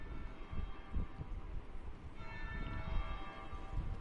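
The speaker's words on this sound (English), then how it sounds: "That would be the second bell." A church-style bell tolls in Dragon Age Inquisition, its sustained metallic ring building midway through over a dense, rumbling game background, with no voices present.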